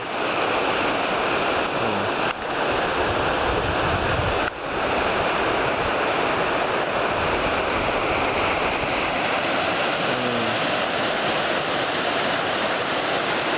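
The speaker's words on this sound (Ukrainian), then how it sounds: "Річка шумить." A mountain river in Yaremche rushes continuously, a dense, loud broadband roar of water with no voices, steady from start to finish.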